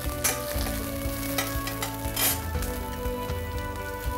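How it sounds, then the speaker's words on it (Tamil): Onions and green chillies fry in a pan for a brinjal and prawn masala, sizzling steadily up close with occasional scrapes and clinks of a stirring utensil and no voices. "இப்போ ஆனியன் வந்து நல்லா ரோஸ்ட் ஆடிச்சு"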